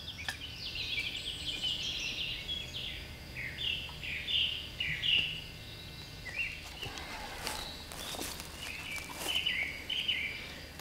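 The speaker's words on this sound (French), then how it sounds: "un concert d'oiseaux" Several birds sing among spruce trees, bright chirping phrases and trills overlapping at moderate distance, with a few soft rustles and footstep-like sounds in the later part and no talk.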